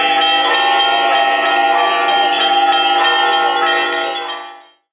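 Church bells ringing loudly during a religious procession around a church in Anapa, a rich sustained peal of overlapping clangs that rings continuously before fading out at the end.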